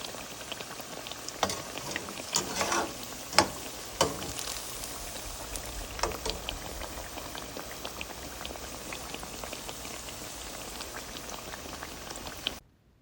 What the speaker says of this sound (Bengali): এই যে এখানে বেগুনিগুলি ভেজে নিচ্ছি